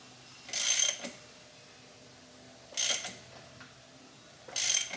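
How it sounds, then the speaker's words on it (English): A hand ratchet clicks in three separate bursts as it turns over a water-damaged BMW E36 engine, each burst a quick run of close, sharp pawl clicks with quiet pauses between. "I gotta see if the motor still rotates"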